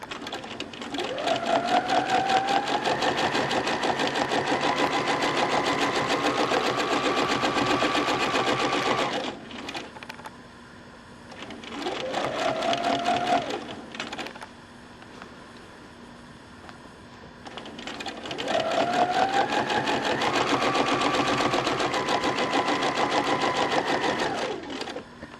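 A small domestic sewing machine stitches free-motion quilted feathers in three long runs of steady motor whir with needle chatter, separated by short quieter pauses and one brief burst.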